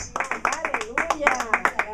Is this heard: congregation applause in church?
yes